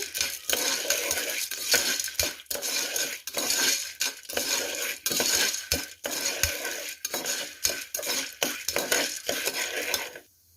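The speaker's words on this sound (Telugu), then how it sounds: "ఇప్పుడు బాగా తిప్పండి" Popcorn is stirred in a pan at home, producing nearly continuous close metallic scraping and rattling in a steady, brisk rhythm for about ten seconds before it abruptly stops.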